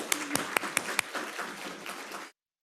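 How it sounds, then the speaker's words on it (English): Audience applause at a school district awards event, a few sharp, distinct claps opening into a softer patter of many hands that then cuts off abruptly to silence. "let's give them a round of applause"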